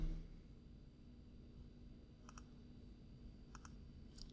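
Computer mouse clicks while working in Adobe Photoshop, three faint, crisp clicks spaced about a second apart over a quiet room hum.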